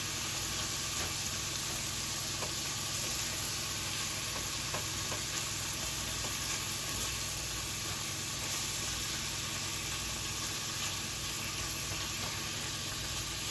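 Pastelillo filling browning in a pan over medium heat, a steady close sizzle and frying hiss with soft stirring scrapes, continuous and even throughout with no voices.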